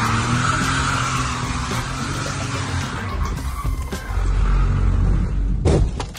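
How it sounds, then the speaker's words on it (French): Car drifting on a wet road, tyres hissing and squealing in a long skid over engine noise, ending in a louder rough scrape and a sharp thump near the close. "il a voulu faire du drift sur une route mouillée"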